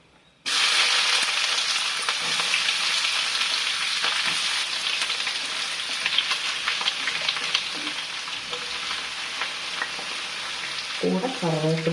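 Six chopped onions hit hot oil where cinnamon has been browning, setting off a loud, steady close sizzle that runs on unbroken, with a few stirring scrapes and a short metallic clink near the end.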